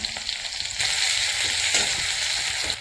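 Ginger, garlic, green chilli and curry leaves drop into hot oil, setting off a bright, loud crackling sizzle that swells as they land and keeps popping close by.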